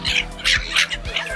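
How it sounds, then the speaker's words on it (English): Birds squawk again and again, loud and close, in a city park in Kunming while people feed them, with harsh overlapping calls in a quick irregular rhythm. "very popular activity here in Kunming is to come to this park and feed the birds."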